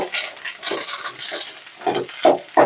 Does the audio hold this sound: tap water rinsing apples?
no